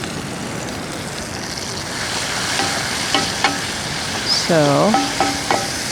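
Onions fry in a pan during outdoor camp cooking, with a steady broad sizzle and a few light stirring knocks, as an airplane drones faintly in the distance and a voice speaks briefly.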